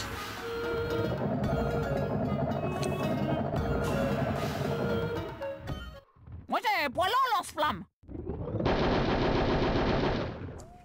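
Loud rapid automatic gunfire from the PS1 war game Les cochons de guerre, sustained bursts with a brief pause and a warbling effect near the middle, mixed over game sounds and a player's talk.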